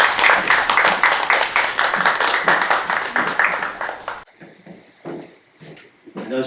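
Audience applause at a Korean high school entrance seminar welcoming an academy director to the stage, dense steady clapping for about four seconds that stops abruptly, followed by quieter scattered sounds and movement.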